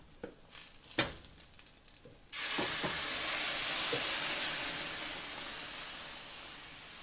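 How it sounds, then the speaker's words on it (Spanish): Salsa is poured over cooked egg in a hot pan and bursts into a loud, steady sizzle after a few quiet clinks, then slowly eases off. "Vean, aquí vamos a agregar la salsa."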